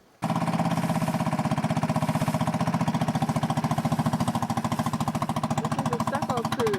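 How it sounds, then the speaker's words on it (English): Cement mixer churning sand, cement and other ingredients for stucco at a house construction site, starting abruptly and then running as a loud, steady, rapidly pulsing mechanical drone close by. "This is the stucco crew, putting sand and cement and other things into a mixer."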